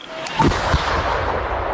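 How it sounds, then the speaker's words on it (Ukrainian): Loud war-zone combat in Ukraine, with a blast early on and a rough, continuous roar of gunfire and explosions sustained at close range for under two seconds. "Уявіть, що оцей кожен вибух це в них прилітає, це FPV-шки різні працюють"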